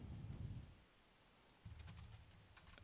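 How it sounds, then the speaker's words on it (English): Keys on a computer keyboard clack in a few faint, scattered bursts, close but quiet beneath a low background rumble. "I try typing something here."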